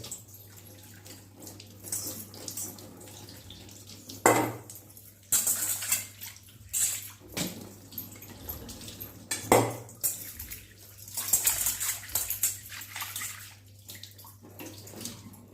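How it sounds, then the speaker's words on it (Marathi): An oily iron kadai is scrubbed with soap and washed under running water, with splashing, clanks of metal and gritty scrubbing strokes in uneven close bursts, with no talking. "आपण साबण लावून याला घासून घेतलेलं आहे"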